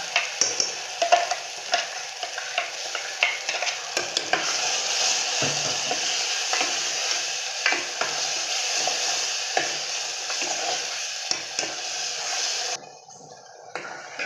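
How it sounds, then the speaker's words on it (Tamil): Raw ground masala paste frying in oil for a broad bean curry, with a continuous close sizzle and repeated scraping strokes of a spoon stirring in the pan, ending abruptly. "இந்த பேஸ்ட் வந்துட்டு எண்ணெயிலே வந்து நல்லா வதக்கிடலாம்"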